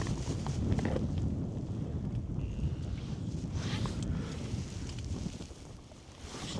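Steady, blustery wind roars across a frozen lake during winter ice fishing, a dense rumbling rush with faint gusty swells and a slight dip near the end.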